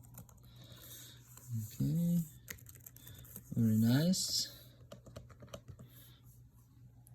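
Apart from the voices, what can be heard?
typing on Asus ROG Strix G15 laptop keyboard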